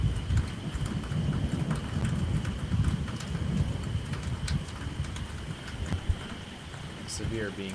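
Steady rain falls during a severe weather storm in Michigan, a dense, continuous patter that stays fairly loud throughout with a few sharper drops standing out.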